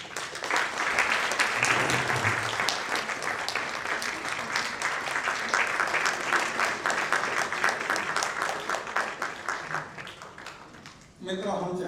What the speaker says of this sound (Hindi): शान से तालियां बजाएं हम एक बार।